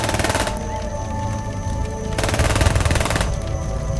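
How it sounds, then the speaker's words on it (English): Dual submachine guns firing in the RTS video game Stormgate: loud, rapid automatic bursts in three sustained volleys, with brief gaps between them. "I find her dual submachine guns are clunky weapons to attack with, and I noticed that the gunfire doesn't match the awkward visuals for it too."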